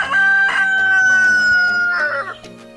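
Native backyard chicken crowing, a single loud, close cock-a-doodle-doo call held for about two seconds before fading, with faint clucking around it.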